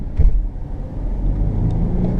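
A Land Rover Discovery 5 diesel engine accelerates in second gear, a steady, close, low rumble heard from inside the cabin, with no talking.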